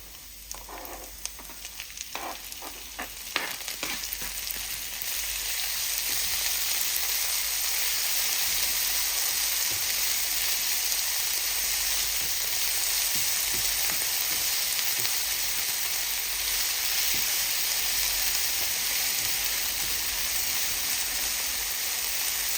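Ethiopian scrambled eggs (enkulal firfir) frying in a pan until brown: a steady, hissing sizzle that runs unbroken throughout, with a few light clinks and stirring scrapes at the start and no voices.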